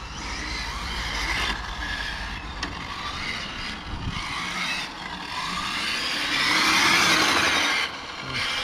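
Hobao Extreme VT electric radio-controlled car drifting outdoors, a whining motor that rises and falls with the throttle, plus tire scuffs, fairly loud and near, swelling around the middle.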